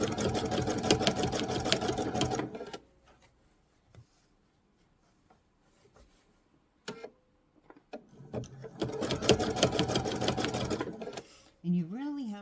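A sewing machine stitching a fabric Bali bowl runs in two loud bursts of rapid stitching, separated by a quiet stretch of small handling clicks and knocks.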